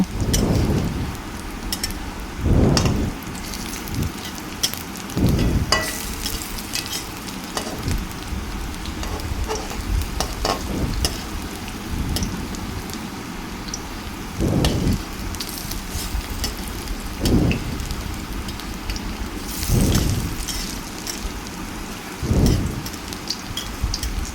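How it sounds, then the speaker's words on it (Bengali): Besan pakoras for kadhi pakora deep-frying in oil, turned partway through, give a steady crackling hiss punctuated by several louder bursts and pops, with no voices. "একটু লাল লাল করে আমি পকোড়াগুলোকে ভেজে নেব।"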